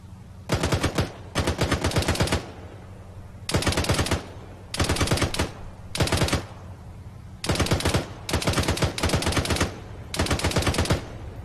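Bursts of automatic gunfire are aimed at a hilltop during military convoy training, with about eight loud, rapid strings of shots separated by short pauses.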